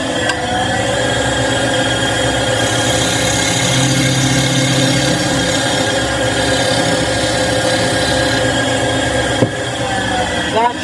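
A steady, loud whirring drone with continuous tonal hum from a lathe spinning a cherry wood lidded box held in a chuck while a gouge cuts into it, running unbroken throughout with a brief sharp tick near the end.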